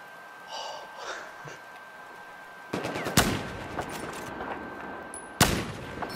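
Gunfire in the video game Battlefield 4 on a flooded-zone map, with sharp bursts and single loud shots breaking out after a quieter start, the strongest blasts near the middle and end.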